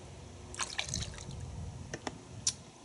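Thin, watery Turtle Wax Max Power car wash soap is poured into a bucket, producing faint trickles and a few drips and splashes, quiet and close.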